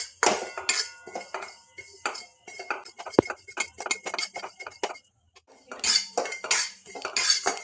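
Radhuni seeds dry-roasted in a hot, oil-free kadai: irregular metallic clinks and scrapes of a utensil against the pan, with a short pause midway.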